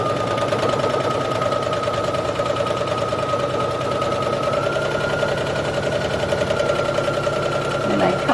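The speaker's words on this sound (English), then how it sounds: "I like to straighten out my seam here as I'm sewing it." A sewing machine stitches a seam on a dress shirt, its motor whirring in a fast, steady rhythmic hum throughout, loud and close.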